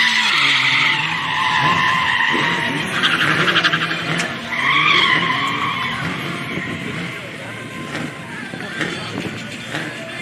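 Car tires skid and smoke in a powerskid or drift run at Powercruise Sydney. A loud, sustained squeal rides over a roaring engine that surges and fades, with voices in the background.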